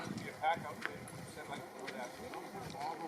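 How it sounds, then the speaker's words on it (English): Faint, irregular hoof clops from horses moving on a trail, mixed with people talking nearby and outdoor background noise. "Horse party arrived."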